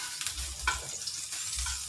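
Garlic frying in a pan for sarciadong tilapia gives a steady hiss and crackle, with stirring scrapes and occasional low thumps as it is moved about; no talking.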